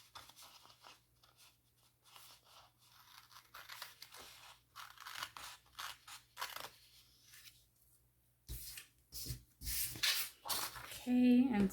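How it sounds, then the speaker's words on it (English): Close, crisp snipping and rustling of a large pair of scissors trimming excess material in irregular bursts, louder toward the end, with quiet background hum. "a bigger pair of scissors here that we're going to take and trim off that excess with"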